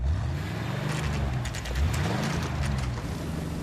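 Several cars roar through a street race in the 1940s Los Angeles setting of the video game L.A. Noire, engines revving and rising in pitch as they pass close and loud, no voices over the din.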